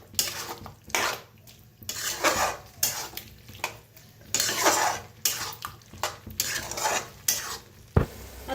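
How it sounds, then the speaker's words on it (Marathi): Cauliflower masala is stirred and roasted in a pan, with repeated rhythmic scraping strokes of a spoon against metal over a soft, steady sizzle, close and loud, and a sharp clank near the end. "छान मिक्स करून भाजूया."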